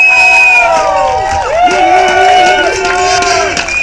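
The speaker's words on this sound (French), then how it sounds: "Vous avez le droit d'applaudir!" An audience at an evening event cheers and applauds a speaker as the speaker is introduced. Loud overlapping voices and shouts dominate, with a busy crowd roar under them through the short burst.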